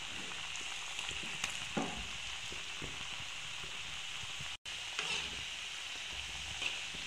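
Bakarwadi deep-frying in oil over a low flame gives a steady, soft sizzle with light crackles throughout, broken by a brief moment of silence midway.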